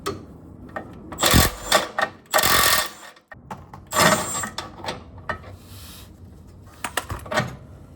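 A socket wrench working a control arm bushing bolt on a 2018 Subaru Forester, heard as close, loud bursts of ratcheting and metallic clatter separated by short pauses, with no voices.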